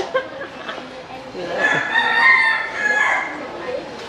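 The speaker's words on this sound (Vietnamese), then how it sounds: "Mà vô đây nghe tiếng gà gái." Rooster crowing in a Saigon alley, a long drawn-out cock-a-doodle-doo rising through the middle of the clip, moderately near over steady background street noise.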